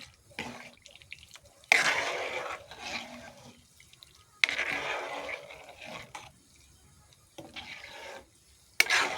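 Lentils (dal) poured into hot water in a pot and stirred, giving rough scraping and swishing sounds in several bursts with quiet gaps, close up.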